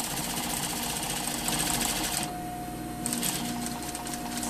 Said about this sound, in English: so sewing at 1 centimeter from the bottom of the crotch